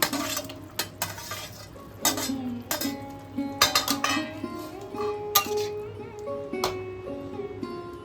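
Fried pointed gourd pieces go into a pot of potato and pointed gourd curry, with repeated metal spoon scrapes and clinks against the pot, a low simmering hiss underneath and occasional soft thuds as pieces drop in.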